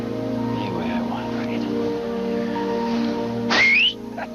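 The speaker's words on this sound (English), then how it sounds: "How do I call my sleigh? Whistle." A person whistles loudly to summon a sleigh, one bright rising whistle of about half a second that cuts in over a steady hum of background music.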